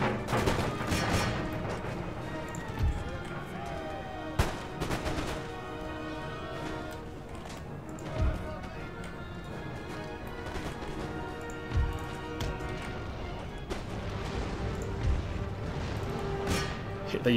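Musket volleys and artillery fire from an Empire Total War battle between French-allied Swiss line infantry and grenadiers and a Cossack unit, with irregular booms and crackling shots at moderate distance over a constant battlefield din.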